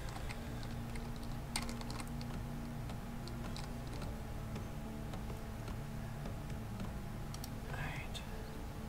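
Soft keystrokes clatter in a quick irregular patter from a keyboard plugged into an Xbox One, faint and close, with quiet voices murmuring underneath.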